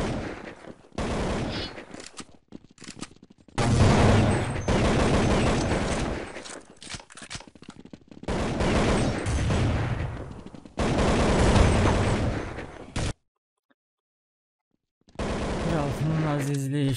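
Counter-Strike 1.6 gunfire in long, loud bursts of rapid automatic shots, broken by short gaps and one near-silent pause before a final volley.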